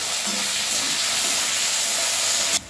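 Green beans fry in a pan for vegetable biryani with a loud, steady hiss that cuts off abruptly near the end; no voices.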